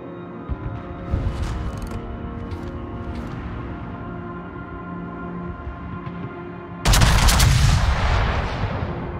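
Heavy gunfire from the battleship Wisconsin's guns in a naval combat video game: a low rumbling barrage builds, then a loud, sudden broadband blast erupts near the end and rolls on with sustained roaring decay.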